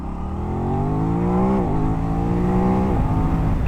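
A 2025 Aprilia RS 660 parallel-twin sport bike accelerates hard, its engine note climbing steadily and dropping briefly at two quick-shifter upshifts, loud and close with wind noise and no talking.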